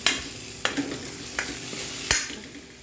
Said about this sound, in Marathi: हे बघा आता मसाला फ्राय झालेला आहे आपला